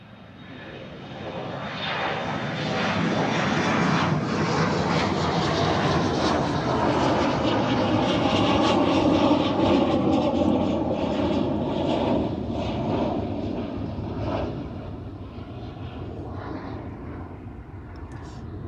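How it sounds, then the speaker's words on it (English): A United Airlines passenger jet bound for Houston passes at Amsterdam Schiphol Airport, its engine roar swelling into a loud, sustained rumble that holds for most of the pass before slowly easing, with light voices audible in the background. "And the United Airlines to Houston is coming our way."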